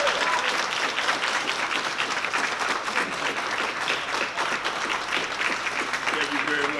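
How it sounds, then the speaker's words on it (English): An audience at a school awards celebration gives a sustained round of applause after a speech, with thick, even clapping filling the room for about seven seconds. "Give Ms. Marquez another round of applause, please."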